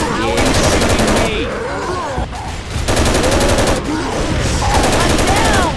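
Colt Model 723 rifle gunfire in Left 4 Dead 2: loud, dense bursts of rapid automatic shots crackle almost continuously, with brief lulls between volleys and a voice speaking underneath.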